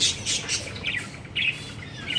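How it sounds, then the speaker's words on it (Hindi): Several parrots chirp and squawk in short bursts while waiting for food, moderately close, with a soft noisy background and no talking. "ये सारे तोते इंतज़ार फरमा रहे हैं खाने का।"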